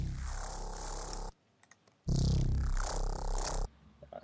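A heavy neuro bass patch from the Massive synth, played without oscillator restart via gate, comes as two loud, gritty, growling bass notes with harsh distortion, separated and followed by near silence.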